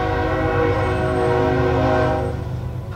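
A train rumbles by with a sustained horn blast, a steady loud drone of stacked tones holding for about two seconds before easing off, with no voices over it.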